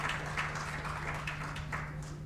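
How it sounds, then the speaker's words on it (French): A conference audience applauds panelists at the close of a session, a steady, moderately quiet patter of many hands with a low steady hum beneath. "vous pouvez applaudir"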